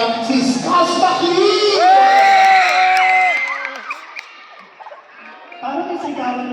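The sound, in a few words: crowd clapping and cheering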